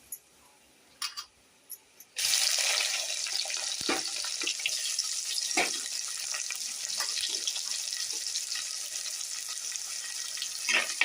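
Onions hit hot oil with cumin and fenugreek seeds and break into a loud, steady sizzle after a few soft clinks, the frying hiss continuing close and unbroken with occasional stirring taps.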